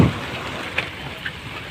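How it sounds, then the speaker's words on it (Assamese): Steady rain falls at Marina Beach in Chennai, a soft, even patter that fills the whole stretch with a couple of brief, sharper drips standing out. "লাহে লাহে বৰষুণ এৰিব ধৰিছে ৰ'ব এতিয়াও দি আছে অলপ"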